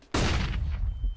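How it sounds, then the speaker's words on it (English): A flashbang grenade in the VRChat game goes off with one sudden loud blast, then a dense rumbling decay that fades over about a second. "Throwing flashbang."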